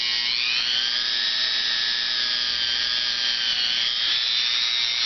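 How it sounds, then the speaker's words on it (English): A Dremel rotary tool on low speed, with polishing compound on a disc, polishes an AKM/AK-47 style rifle hammer. It gives a steady, close, high-pitched whine that holds constant throughout. "And put your Dremel on low."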